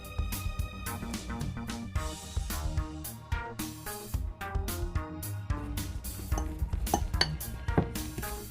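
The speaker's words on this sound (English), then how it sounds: "And mix until all ingredients are combined." A utensil clinks and scrapes steadily against a bowl while keto cinnamon roll dough ingredients are mixed, with quick, irregular taps and clatter close up.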